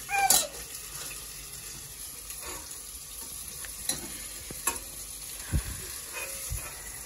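Chicken lightly frying in a pan for a Thai soup, giving a soft steady sizzle while a utensil scrapes and taps against the pan a few times at intervals.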